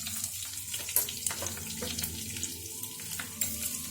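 Green chillies and mustard seeds frying in hot oil for upma, a steady close sizzle with faint crackles and pops throughout.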